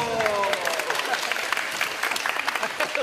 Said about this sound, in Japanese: いや、拍手までしてます